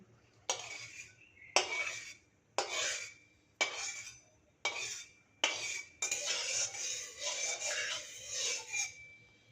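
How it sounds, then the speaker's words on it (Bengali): Oil being spread around a wok with a metal spatula before cooking mushroom chowmein, heard as a series of about seven scraping strokes at a steady rhythm, close and fairly loud, with no talking. "খুব সুন্দর করে কিন্তু কড়াইয়ের গায়ে আমি এখন তেলটা লাগিয়ে দিয়েছি"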